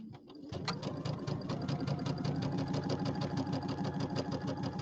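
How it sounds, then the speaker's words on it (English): A sewing machine stitches quilt pieces, starting after a brief pause and then running in a steady, rapid, close mechanical whir and tick with no talking. "You got to drop that needle before you start sewing."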